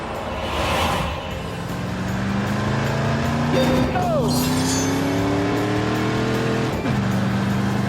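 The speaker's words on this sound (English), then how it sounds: "The Corvette, America's premier sports car." Chevrolet Corvette sports car engine droning steadily with rising and falling pitch shifts, loud and close, while someone narrates over it.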